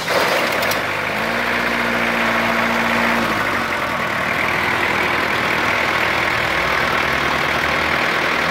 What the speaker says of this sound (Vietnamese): Bây giờ chúng tôi sẽ nổ máy để cho con cái động cơ nó hoạt động